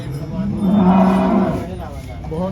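A cow at a dairy farm in Makhdoomganj, Ayodhya district, lets out one long, loud, close moo that swells and fades, with no speech.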